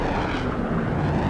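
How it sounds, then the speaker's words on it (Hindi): Fighter jets roar in a Turkish war film, a loud, steady rumbling engine wash that fills the whole moment without speech. "Fighter jets. Fighter jets."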